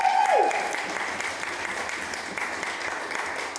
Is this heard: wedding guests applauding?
yes